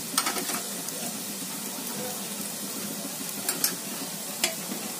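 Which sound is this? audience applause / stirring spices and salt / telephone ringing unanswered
stirring spices and salt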